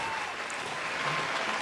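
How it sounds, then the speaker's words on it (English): Applause from a small group on a podcast set, a brief, steady patter of clapping at moderate loudness that fills the short moment without talk. "More applause."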